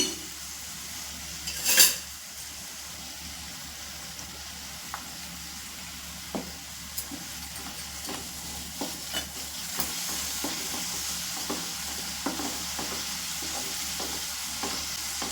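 Ginger garlic paste being stirred and frying in a pan with onions, a continuous soft sizzle broken by a series of spoon scrapes and taps on the pan, close and without talk.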